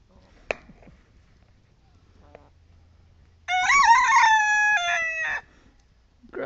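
A rooster crows loudly and close, one long drawn-out call, among chickens being fed grubs, with brief faint clucks and a sharp knock before it.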